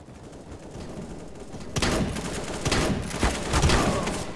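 Bursts of CS:GO gunfire crack out over the second half, loud and near, with several sharp shots clustered together after a quieter opening stretch.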